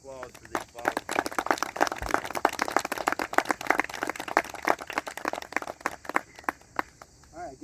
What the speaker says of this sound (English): How about a round of applause for these volunteers?